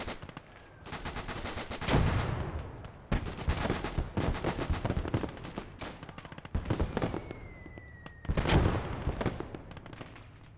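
Sustained gunfire in the WWII strategy game Gates of Hell rattles through a town's main road, with machine-gun bursts and heavier booming shots repeating in loud waves over about ten seconds, no voices over it.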